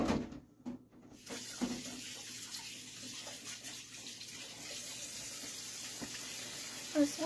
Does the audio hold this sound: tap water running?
yes